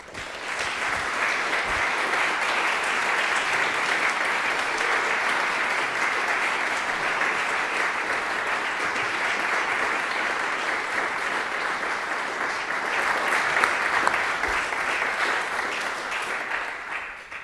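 A lecture audience at the Eastman School of Music applauds to welcome the speaker, a steady, full wash of many hands clapping that holds for the whole stretch before fading at the end.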